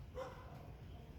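A neighbor's dog barks once up the street, faint and distant over steady outdoor background noise.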